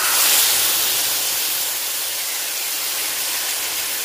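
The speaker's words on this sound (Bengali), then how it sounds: "এখন দিয়ে দিব শুকনা মশলা যে আমি পেস্ট করে নিছি" Spice paste hits hot soybean oil for a mango and rui fish curry, letting out a loud, steady hiss that eases slightly after the first moment and keeps sizzling.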